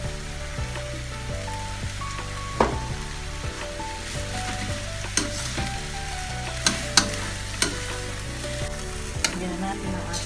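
Shredded cabbage and mixed vegetables for spring rolls frying in a pan, a loud constant sizzle broken by repeated utensil clicks and taps as they are stirred.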